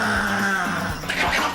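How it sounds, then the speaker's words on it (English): A small dog, about the size of a cat, growls in a low, continuous, menacing rumble close by, with a sharper snarl near the end. "Victoria goes head-to-head with the ultimate devil dog"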